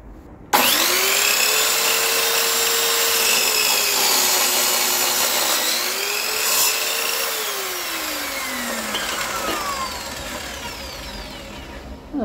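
A Parkside PKS 1500 miter saw cuts wood at a 30-degree angle, its motor whining loud and steady for about eleven seconds, with the pitch sagging under load and rising again as the blade spins down.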